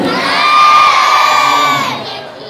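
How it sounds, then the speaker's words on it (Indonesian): Children at an Isra' Mi'raj religious gathering cheer and shout together in a loud, sustained burst lasting a couple of seconds, then fading; no clear clapping stands out beneath the high-pitched crowd of young voices. "Kasih tepuk tangan."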